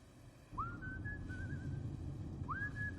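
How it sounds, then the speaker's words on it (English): A person whistles a simple tune behind the wheel of a car, two short rising phrases with a sustained wavering note between them, clear and close over a steady low engine rumble. "You are whistling"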